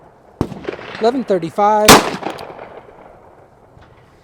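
Taurus Tracker 692 revolver firing rounds, with one sharp loud report early, then speech-like talk and another strong blast, tailing off into quiet room noise.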